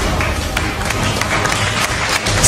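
A French-speaking lecture audience votes by applauding, producing a dense, loud wash of clapping mixed with crowd noise that stays steady throughout.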